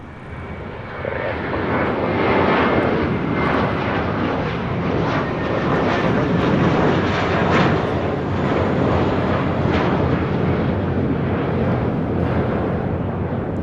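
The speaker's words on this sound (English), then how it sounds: "This is JetBlue 1124 taking off to JFK on an A321." A JetBlue Airbus A321 jet taking off at LAX, a loud sustained engine roar that builds and holds steady across the whole stretch, heard fairly close.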